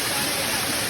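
Strong water pours down a tall waterfall, a loud, dense, continuous roar of rushing and splashing with no voices.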